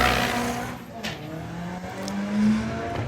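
A front-wheel drive VW drag car launches at Santa Pod Raceway, its engine note a steady, fairly distant drone that rises in pitch as it pulls away, with crowd and track ambience around it.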